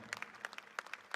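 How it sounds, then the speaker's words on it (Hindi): A few scattered, crisp hand claps from an audience welcoming spiritual speaker Jaya Kishori at a motivational event, brief and moderately loud with no steady roar. "प्लीज एक बार जोरदार तालियों से स्वागत"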